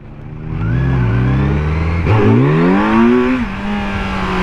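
A Kawasaki Z900 inline-four naked motorcycle revs loud and close as it accelerates, its engine note climbing through the gears with a smooth rising howl and a brief dip at a shift.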